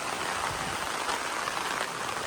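Heavy monsoon rain pours down outdoors in a steady, dense hiss of drops striking surfaces, continuous and fairly close, with no voices.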